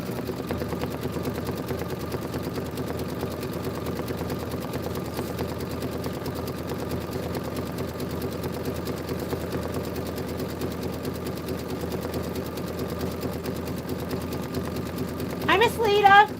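An embroidery sewing machine stitching out a tiled scene design, a fast steady mechanical whir and needle chatter running throughout, with a short higher whine near the end.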